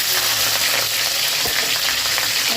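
Dried red chilies and slit green chilies with black cumin seeds hit hot oil in a pan, giving a loud, steady, close hiss of sizzling with no talking.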